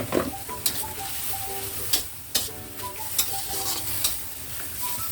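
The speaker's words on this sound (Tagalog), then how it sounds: "Haluin lang natin hanggang sa maluto yung ating bittermelon." Bitter melon stir-fry with preserved duck egg crackles in a pan while a spatula scrapes and clinks against the metal in an uneven rhythm over a constant sizzle.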